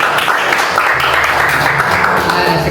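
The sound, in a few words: audience applause for Daniel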